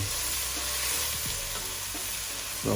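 Vegetables for prawn fried rice sauté in a hot pan with a steady, even hiss and sizzle, close by, with a few faint utensil taps and no speech.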